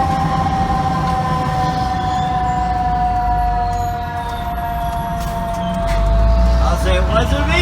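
A fire engine's mechanical siren winds down, its steady tones sliding gradually lower and fading, loud and close inside the truck, with a rumbling engine underneath and crew talking over it.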